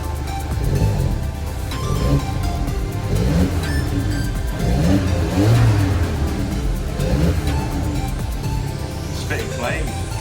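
A VW Golf MK7.5 with the 1.4 TSI engine and GTI TCR exhaust revs up and down in several sustained swells, loud and close, while voices talk over it.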